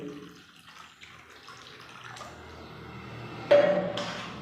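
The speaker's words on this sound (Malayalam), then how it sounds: "ഇതിലേക്ക് നമുക്ക് ചൂടുവെള്ളം ഒഴിക്കാം." Hot water is poured into a rubber hot water bag, a soft, quiet gurgle and trickle that grows fuller toward the end, with a brief bright splash.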